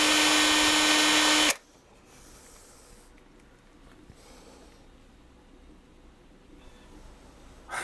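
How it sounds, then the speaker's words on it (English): LTT electric screwdriver driving screws during a Sovol SV08 toolchanger 3D printer build, a loud buzzing whir for about a second and a half, then stopping into quiet room noise with faint handling sounds. "The LTT screwdriver is making too much noise, and you don't hear when you are tightening it."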